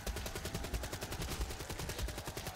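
Rapid gunfire in the video game Dead Ops Arcade 2, a dense, fast rattle of shots that is fairly quiet and continuous, with no speech.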